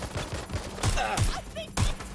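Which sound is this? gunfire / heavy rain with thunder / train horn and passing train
gunfire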